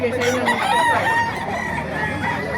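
Many chickens and roosters at a busy pet market in Baliuag crow and cluck over one another, a dense, loud, overlapping chorus close by with no pause.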